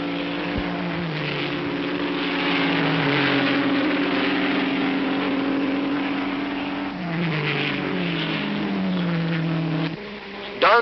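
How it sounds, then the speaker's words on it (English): Ferrari racing cars from 1958 at Spa-Francorchamps, one overheated, roar past with steady, loud engine drone and shifting pitch as they pass, in continuous motor noise throughout. "Collins gets the overheated Ferrari ahead of Brooks"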